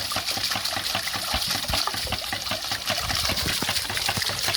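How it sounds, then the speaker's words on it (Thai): Water gushes steadily from a pump outlet pipe in a solar-powered water setup, a continuous broadband splashing flow that stays loud and even throughout with no pauses. "น้ำออก"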